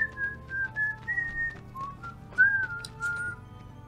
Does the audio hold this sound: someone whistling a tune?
yes